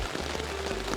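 Rain falling on a tent at a campsite, a steady, close patter of drops drumming on the fabric that fills the whole short moment without any talk.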